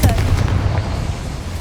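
A Confringo fire spell explodes in the Hogwarts Legacy video game, a brief burst with a booming low rumble that fades over under two seconds, with game voice sounds mixed in.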